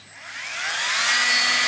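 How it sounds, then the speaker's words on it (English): A bench grinder fitted with a 3D-printed sandpaper wheel grinds into a piece of foam, its whirring motor note steadily climbing louder and brighter for a second and a half with a high whine emerging near the end. "Here I got some foam in my grinder."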